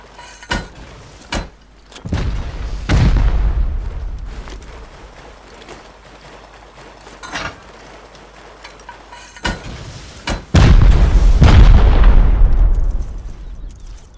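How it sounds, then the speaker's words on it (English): Rocket explosions go off during a large raid in the console edition of the game Rust, with several sharp, loud blasts and booming bursts, some overlapping into long rumbling roars, close and unaccompanied by talk. "Everyone stop shooting normal rockets then for now."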